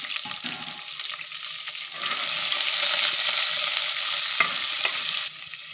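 Onion, garlic, chili and curry leaves hit hot oil and urad dal in a pan, building from a soft fry into a loud, dense sizzle with occasional stirring scrapes, then easing off near the end.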